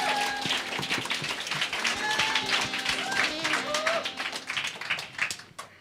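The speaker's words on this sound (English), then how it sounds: "let's welcome our contestants and models with a big round of applause" Applause for contestants and models at a Christmas musical: mixed clapping with crowd chatter and cheering voices running through, fairly loud and steady before thinning out at the end.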